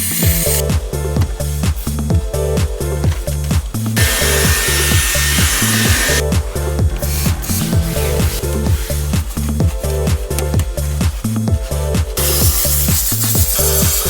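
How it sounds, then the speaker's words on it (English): Rhythmic back-and-forth scrubbing of grime on the steering wheel of a 2002 Ford F-150 work truck with 200K miles, close and loud in steady strokes with brief pauses. "Now let's get the gunk off the steering wheel."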